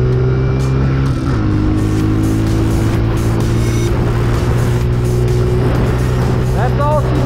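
A Honda CRF 125 F big-wheel pit bike engine running as it is ridden, a loud steady drone with pitch shifts as the throttle changes, and voices speaking over it.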